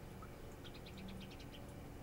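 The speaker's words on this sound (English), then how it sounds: "There's literally a bird chirping outside of" A bird chirps outside a window, a quick run of soft, faint tweets rising above a steady background hiss.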